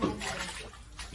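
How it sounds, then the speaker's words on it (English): Flood water sloshing and splashing in an apartment hall as it is bailed out by hand, a steady wet churning that runs close and continuous with no clear voices. "Just bailing water."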